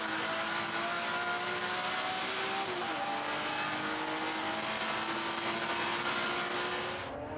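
BMW race cars in the Open Class racing at Manfeild circuit, engines roaring loud and close with rising and falling revs as the cars pass, continuous throughout.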